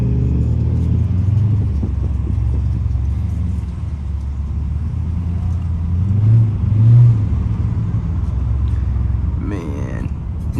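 A straight-piped Dodge Charger R/T rumbles steadily in slow downtown traffic, its deep low exhaust drone continuous with a couple of swelling revs near the middle, while people talk over it inside the car.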